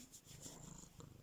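A stray cat purring up close, a soft, very quiet rhythmic rumble pulsing steadily with no voices.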